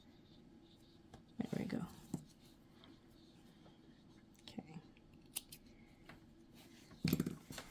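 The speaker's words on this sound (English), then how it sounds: "I'm gonna cut that thread off." Scissors snip through crochet yarn thread on a doll sweater sleeve, a few soft close cuts in brief bursts, with a quiet voice speaking briefly.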